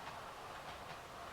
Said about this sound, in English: get my little train here moving a bit quicker.